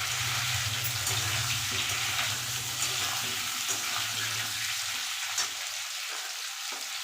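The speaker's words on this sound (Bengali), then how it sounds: "দিয়ে দেবো কেটে রাখা আলু আলু আর ওলকপি আর একবার একটু ভেজে নেব" Diced potatoes and kohlrabi fry in a pan of oil, a steady close sizzle with occasional stirring scrapes, continuous and fairly quiet.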